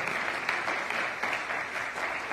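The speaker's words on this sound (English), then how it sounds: "Y'all should be clapping your hands because y'all drinking the water." Church congregation clapping hands during a Sunday service, a steady, dense wash of applause from many people that continues evenly throughout with no voices standing out.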